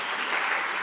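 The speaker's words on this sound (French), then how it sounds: "Allez, on les applaudit" Audience applause for quiz contestants at a school quiz semi-final, a brief burst of dense, steady clapping.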